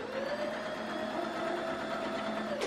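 A sewing machine stitches through fabric in a steady, continuous whir with a fast mechanical rhythm, close and even throughout before stopping abruptly at the end.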